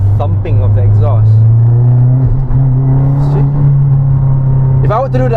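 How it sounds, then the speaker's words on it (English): Mazda3 MPS turbo exhaust drones and thumps steadily from inside the car while driving, loud and continuous, with someone talking over it. "You can hear that thumping of the exhaust."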